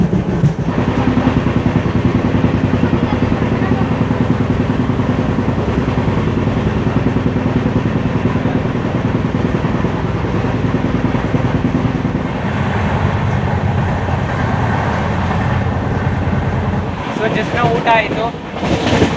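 A Hassan Solapur SuperFast Express train running nonstop, its loud continuous rumble and rattle heard from inside the coach without letup, with a brief change in texture near the end.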